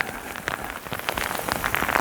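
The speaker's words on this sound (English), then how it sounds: "because it's raining even more now" Heavy rain pours on an exposed mountain during a thunderstorm walk, a steady dense hiss of drops striking surfaces close by, with no voices.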